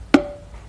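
A single tom-tom pad hit on a Simmons electronic drum kit set to program 14: one sharp struck attack followed by a short ringing tone that fades over about half a second, played alone with no talk.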